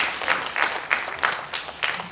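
An audience claps after a lecture in a hall, a moderately sized crowd producing a steady patter of applause with a few louder claps standing out over the short stretch.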